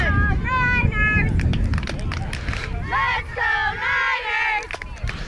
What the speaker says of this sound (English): now we have a Niners chant breaking out